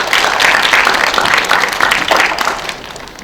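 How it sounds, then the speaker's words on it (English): An audience at a high school orientation breaks into applause, a loud full burst of many hands clapping that rolls on evenly and then starts to fade toward the end. "Just a round of applause."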